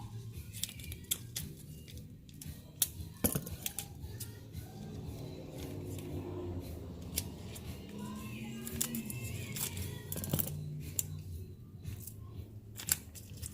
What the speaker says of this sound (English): I'll cut the barrier film.